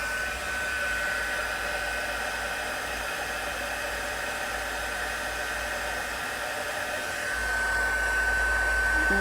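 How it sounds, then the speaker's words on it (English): An embossing heat tool set on high blows hot air in a continuous, even whoosh close by, with no voices over it. "I'm going to get my heat tool and let it heat up just a little bit"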